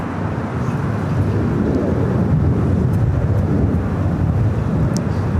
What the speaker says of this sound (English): Dreamliner heading to Tel Aviv